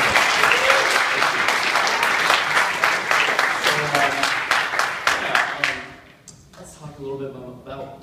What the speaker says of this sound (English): And another applause for her.